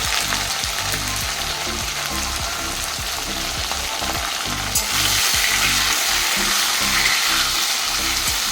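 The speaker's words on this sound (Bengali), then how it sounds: "তো চলুন আলুর সাথে একটু চিংড়ি মাছগুলোকেও ভেজে নিই।" Shrimp and potatoes sizzle and crackle in hot oil in a pan, a steady, close frying hiss throughout with a brief clatter just before the sizzle swells slightly louder.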